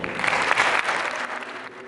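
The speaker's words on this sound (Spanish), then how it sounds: "Les pido un fuerte aplauso para el doctor Mario Schiller." Audience at a Kristallnacht commemoration lecture applauds a speaker, a brief dense burst of clapping that swells and then gradually fades.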